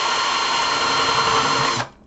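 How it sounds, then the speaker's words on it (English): A power drill runs steadily, boring holes in a metal chassis, loud and close with a continuous whine that cuts off sharply near the end. "you drill a series of holes"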